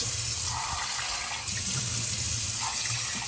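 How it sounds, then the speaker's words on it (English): Tap water runs steadily into a kitchen sink during a water filter change on a Jura ENA4 espresso maker, a close, even splashing hiss throughout. "Turn the water off."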